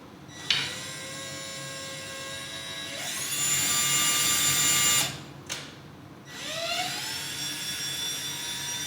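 A small high-pitched drill whirs in three separate bursts while boring a small hole for a diddley bow, a one-string guitar, each run spinning up sharply and stopping abruptly, close and loud with no talking.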